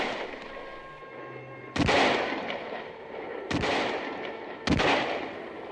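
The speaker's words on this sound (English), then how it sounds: "I took out my rifle from its case. I began firing to slow the green warriors." Rifle gunfire sounds three times, each sharp close crack trailing into a long rolling echo and spaced about a second or more apart.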